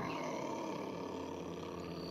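A cougar heard at night during a late-night elk hunt gives a steady, rough growl that holds loud and continuous for about two seconds, with no voices over it.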